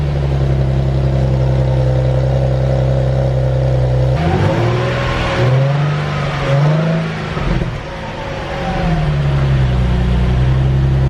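Stock exhaust of a Nissan 370Z, a steady mid-pitched idle that swells into a couple of short revs in the middle before settling back to a smooth, quiet idle, close and with no talk.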